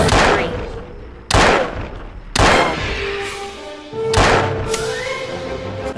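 Pistol shots in the video game Trespasser, a SIG 220-style handgun with a revolver-like report: four loud, sharp bangs spaced about a second apart, each trailing into a ringing decay.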